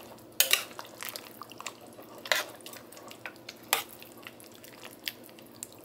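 Freeze-dried pepper steak noodles being stirred in a pot, with soft scrapes and clinks of a utensil against the metal, a few sharper taps standing out from a quiet, steady background.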